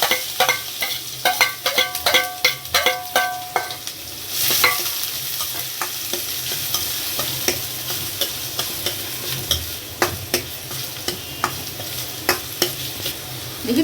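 Chopped medium onions drop into hot oil with cumin seeds and fry with a bright, steady sizzle, while a spoon stirs and scrapes the pan in rapid, repeated clatters, loud and close at first, then easing into continuous frying.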